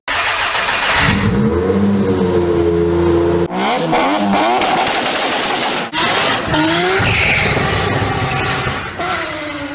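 A Honda Civic Type S with a 2.2 diesel revving hard on a dyno, loud close engine drone climbing and dropping through several rev sweeps with sharp cuts between runs.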